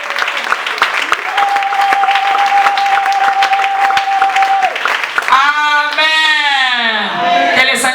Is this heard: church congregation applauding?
yes